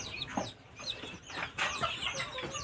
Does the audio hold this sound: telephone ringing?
no